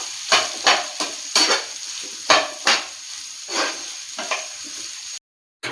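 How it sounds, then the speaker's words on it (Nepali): Soybeans stir-fried in a pan until lightly reddened, with repeated scraping stirs over a steady sizzle, fairly close, ending in a brief cut to silence. "मैले सोयाबिनलाई यसरी हल्का रातो भुटिसकेँ"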